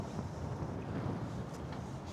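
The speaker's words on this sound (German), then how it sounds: "Wind ist da." Steady wind rushes over a sailing boat on open water, a broad continuous roar buffeting the microphone, with no voices.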